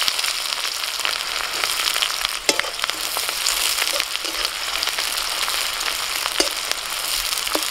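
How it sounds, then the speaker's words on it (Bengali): Chopped onion frying in hot mustard oil with whole spices, a loud, dense continuous crackle and sizzle close by, with a few sharp stirring clicks scattered through. "ফোড়নটা ভাজা হলে দিচ্ছি পেঁয়াজ কুচি"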